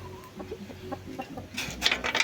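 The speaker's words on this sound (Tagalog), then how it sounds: "ito pa yung isa kong uh, tandang na Rhode Island Red din to" A Rhode Island Red rooster clucks softly in short, scattered bursts, with a sharper burst of louder calls near the end.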